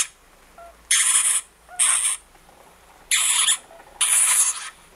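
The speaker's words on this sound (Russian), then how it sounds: "Это звук хомяка, когда к нему вторглись в домик." A pet hamster screams when its house is invaded: four sharp, high-pitched squealing bursts, each under a second, with short silent gaps between them, loud and close, no talking.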